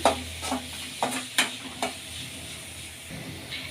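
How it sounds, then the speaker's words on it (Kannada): Onions being stirred in a frying pan with curry leaves for a wood apple gojju, a spoon scraping in several distinct strokes over a steady sizzle, close and clear with no talking. "ಈರುಳ್ಳಿ ಈಗ ಮಿಕ್ಸ್ ಮಾಡ್ಕೊಳ್ಳೋಣ"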